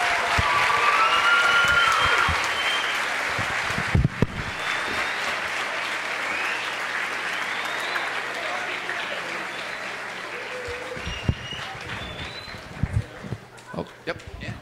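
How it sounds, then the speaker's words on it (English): A crowd at a William Floyd school event applauds Kevin after he receives a varsity football jersey; broad, fairly distant clapping swells first, then thins out with scattered louder claps, some voices and bustle underneath. "Big round of applause for Kevin."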